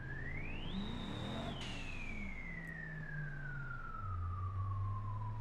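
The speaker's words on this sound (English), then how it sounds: "can you hear the turbo?" A turbocharged Ford Bronco with its doors removed in the driving game BeamNG.drive, its turbo whine climbing to a high whistle and then slowly falling over a low, steady engine drone, loud and continuous with no talk.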